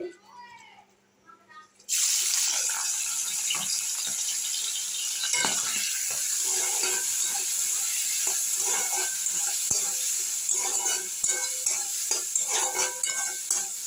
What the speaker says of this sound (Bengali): এবার আমি গুগলিগুলোকে ভেজে নেব তেলের মধ্যে দিয়ে